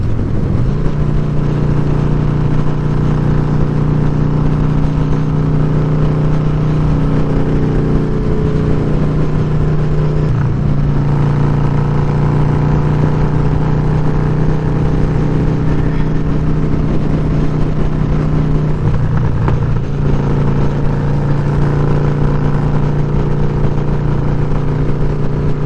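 A 2004 Harley-Davidson Dyna FXDI Super Glide being ridden, its engine a loud, steady low drone with constant wind rush and brief dips in pitch as the rider shifts, heard up close for the whole stretch.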